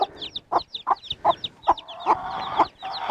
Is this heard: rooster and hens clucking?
yes